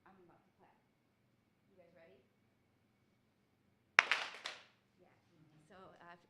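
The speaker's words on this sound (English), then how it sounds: "if you were just listening, you didn't know that was a clap, and then the claps followed" A group at a practice conference claps in unison, one sharp, loud burst followed by a brief ragged tail of claps, set between stretches of quiet talking.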